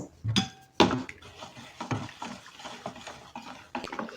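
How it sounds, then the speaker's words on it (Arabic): Stirring caustic soda into used cooking oil for homemade laundry soap: a utensil clinks against a pot a couple of times, then a soft, continuous scraping swirl, close and fairly quiet. "الصودا الكاويه هنحطها ونقلب كويس"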